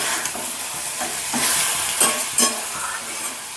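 Pumpkin stem curry (chorchori) being stirred in a pan, a continuous moderate sizzle with a spatula scraping and tapping the pan several times, including a couple of sharper knocks.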